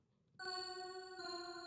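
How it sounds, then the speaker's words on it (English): Sweet, bright bell tones from music production software ring out suddenly after a quiet moment, and a second bell strike follows while the first still rings, both sustaining clearly with no one talking. "Some sweet bells."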